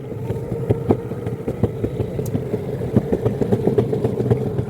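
A Boosted electric skateboard with a VESC controller rides and accelerates, giving a steady close motor whine over rolling wheel rumble, with regular knocks from the board passing over bumps and no talk.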